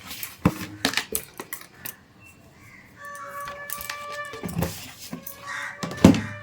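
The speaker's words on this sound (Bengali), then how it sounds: "এটাকে ভালো করে মিশিয়ে নেব।" Batter for a kids' tiffin snack is stirred by hand in a large bowl, with irregular clinks and scraping taps against the bowl that come near and moderately loud amid faint household background sounds.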